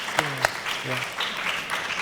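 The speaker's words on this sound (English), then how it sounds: "let's give him a round of applause" Brief audience applause at a creative-industry talk on digital media, with a voice speaking over the clapping.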